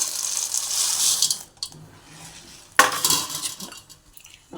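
A roasted gram snack mixture is stirred in a pan, with close scraping and clinking of a metal spoon against the pan in a few bursts separated by quieter pauses.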